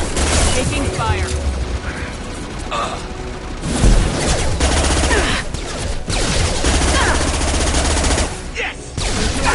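Sustained bursts of automatic gunfire and explosions from the video game Mass Effect rattle loudly and nearly nonstop, with brief lulls and occasional booming impacts.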